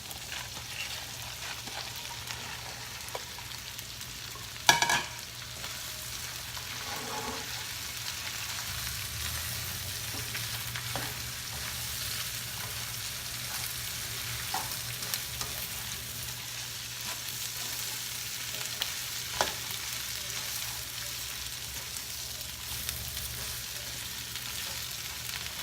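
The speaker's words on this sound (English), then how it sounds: "Now we're gonna add the sugar piece." Shrimp and sugar peas stir-frying in a pan give a steady, close sizzle and crackle for the whole stretch, with a sharp clack near the start and occasional soft scrapes of stirring.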